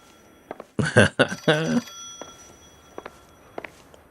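A telephone rings in the video game L.A. Noire: a faint, brief ring or two sounds in a quiet room, followed by a short burst of nearby speech and then more faint ringing pulses.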